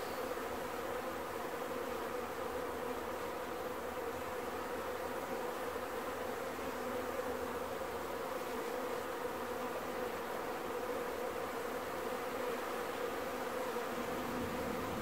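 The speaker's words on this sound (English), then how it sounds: "I'm going to get that bee buzzing." Honey bees swarm and buzz steadily from an opened beehive during a September hive inspection in Newfoundland, a dense continuous drone close to the microphone for the whole stretch, with no talking.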